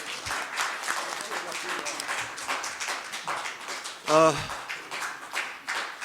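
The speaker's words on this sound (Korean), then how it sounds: "박수 부탁드리겠습니다" An audience at a forum claps for a piano professor as flowers are presented, with steady moderate applause and a voice briefly rising over it.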